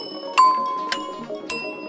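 Three bright bell dings from an app sound effects library ring out one after another, each sharp strike followed by a clear ringing tail.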